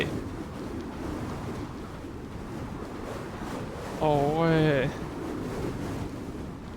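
A storm in the video game Gears of War 4 drives a steady, loud rush of gusting wind and surging waves. A brief voice exclamation breaks in partway through.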